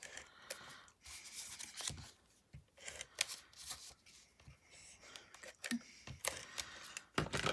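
Scissors snip around a paper sunflower during fussy cutting for a card, making a series of close, crisp cuts and rustles in irregular bursts with brief pauses between.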